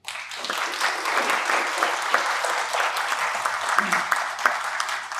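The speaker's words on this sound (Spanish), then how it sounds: "Les pido a todos que les brinden un fuerte aplauso," An audience at a UNAM law faculty event claps loudly and steadily for a guest speaker, a dense sustained applause with a few voices audible beneath it.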